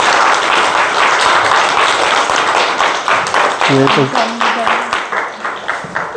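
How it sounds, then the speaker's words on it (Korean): A Korean Presbyterian church congregation applauds at a deaconess appointment during a Sunday service, with loud close clapping at full strength and a short spoken word partway through, then the clapping gradually tapers off. "박수로 축하해 주십시오."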